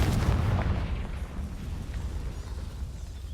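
A Confringo fire spell blast in Hogwarts Legacy, a muffled low boom right at the start that fades into a rumbling game background, with no talking.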